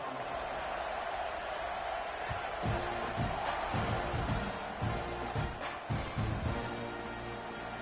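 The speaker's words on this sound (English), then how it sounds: "They're set to kick it off, and this crowd now ready to get behind them." A college football stadium crowd roars steadily ahead of a kickoff, a broad wash of cheering with scattered claps and thumps growing busier toward the end.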